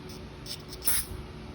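A short hiss of aerosol cleaner sprayed into a small engine carburetor bursts out near the middle, brief and close, over a quiet background.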